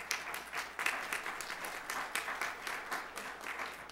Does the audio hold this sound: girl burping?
no